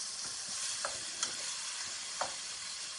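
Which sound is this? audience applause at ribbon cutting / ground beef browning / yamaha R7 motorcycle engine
ground beef browning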